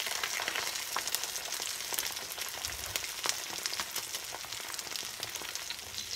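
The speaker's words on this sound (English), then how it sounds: "So it goes skin side down into your frying pan" Duck breast laid skin side down in a frying pan over medium-low heat, sizzling and crackling steadily and densely throughout, close and fairly loud, with no talking.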